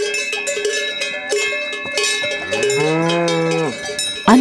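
Cowbells clang in a busy, overlapping jangle as cattle are driven up a mountain pasture toward 1600 metres, with a low, sustained moo rising near the end; loud and close throughout, no talk.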